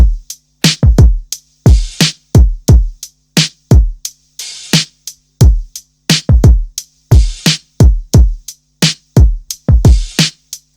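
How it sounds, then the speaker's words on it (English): Boom bap drum beat with punchy kicks and sharp snares in a steady, swung loop, loud and dry with no other sounds or voices. "I also went ahead and made some drums for this boom bap style"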